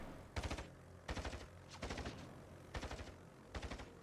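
Anti-aircraft flak fire in a World of Warships-style naval game comes as five short, evenly spaced bursts of rapid automatic shots, quiet and somewhat distant, with no talk.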